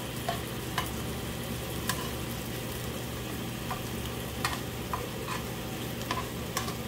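Beef and sliced paprika fry in a pan over low heat, a soft steady sizzle with a few sharp crackles and occasional stirring scrapes, close and fairly quiet, with no talking.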